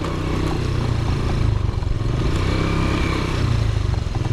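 A motorcycle rides over a rough, muddy, bumpy road near Montalban, Rizal. The engine drones steadily and close, with rattling and clattering over the uneven ground and no speech.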